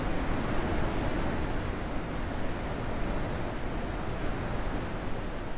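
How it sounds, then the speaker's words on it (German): A loud waterfall in the puzzle game The Witness roars as a steady, dense hiss of falling water, constant and unbroken with no voices over it. "Lauter Wasserfall."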